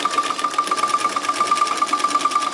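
A freshly oiled sewing machine stitches rough seams on a scrap of waste cloth, running in a fast, even mechanical rattle with a rhythmic pulse, loud and close, with no voices.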